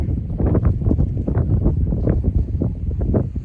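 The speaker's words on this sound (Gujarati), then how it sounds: "પવન એ વધારે પડતો છે." Strong gusty wind on farmland in Gujarat after forecast rain buffets the microphone in loud, rumbling bursts that rise and fall continuously.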